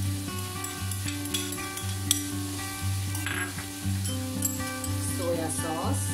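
Vegetable fried rice sizzles and is stirred in a pan with soy sauce and Schezwan chutney, a steady frying hiss with light scraping under background music.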